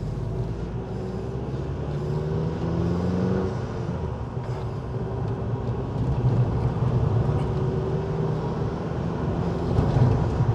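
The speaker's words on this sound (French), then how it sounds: "c'est un prototype, hein, c'est quand même assez bruyant pour un véhicule haut de gamme" A Hobbycar Passport prototype's engine running, a steady low rumbling drone that holds at a fairly constant level for the whole stretch, loud and close with no talk over it.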